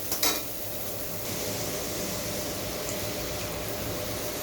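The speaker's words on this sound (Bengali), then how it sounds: "এখন এটা আমি একটু ভেজে নেব।" Hilsa fish frying in a pan, with a steady, even sizzle and hiss throughout after a brief clatter of utensils at the start; no voices.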